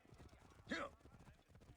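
In Assassin's Creed Origins, a horse gives one short whinny over quiet, steady clip-clop of hooves, the whole scene soft and low in the mix.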